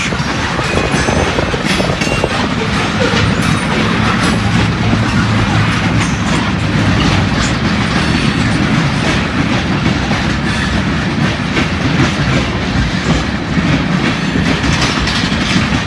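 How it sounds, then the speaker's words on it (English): A long freight train rolls past on rails outdoors on a cold, windy day, a loud, close, continuous rumble with rhythmic clickety-clack of wheels over joints that carries on without letup. "this might be a 2-mile train, I don't know."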